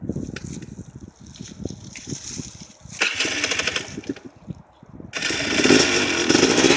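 A Badboy WTF 250 motorcycle engine idles roughly and then revs up in louder, harsher bursts, heard close and loud with no talk over it.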